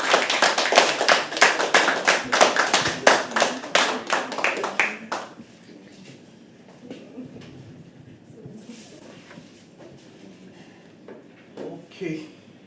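Audience at a live poetry open mic claps in a fast, regular rhythm for about five seconds, then the clapping stops and leaves quiet room sound with a few scattered taps and faint voices.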